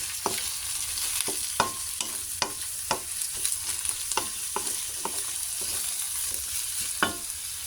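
Pechay greens sauté in a pan with a steady close sizzle, broken by a regular series of sharp spatula scrapes and clinks as the vegetables are stirred.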